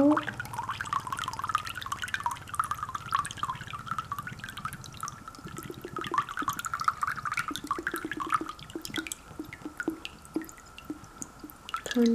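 Water drips and trickles out of a single hole in a container during a simple flow-speed experiment, a busy patter of small splashes over a steady gurgling stream that continues throughout.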